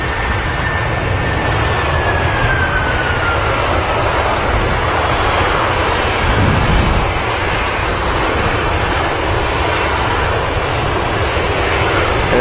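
Aer Lingus airliner on the runway at Manchester Airport, a loud, sustained jet engine roar with a broad rumble and a faint descending whine, heard alone without talk.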